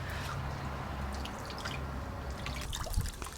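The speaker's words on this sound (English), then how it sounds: "Again, just squeezing the water out." Water drips and trickles as hands squeeze a freshly dyed ombré sweater, a constant wet wash with scattered small splashes and a slightly louder squish near the end.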